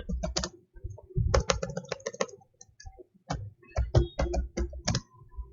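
Java code being typed on a computer keyboard, quick close bursts of clacking keystrokes separated by short pauses, with no talking over them.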